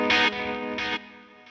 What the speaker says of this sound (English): add that memory man delay, as well as a tape delay